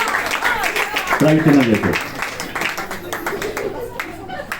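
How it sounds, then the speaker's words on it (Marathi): An audience at a prize-giving event claps for a first-prize winner, a brief burst of close, dense applause while someone speaks over it. "जोरदार टाळ्या."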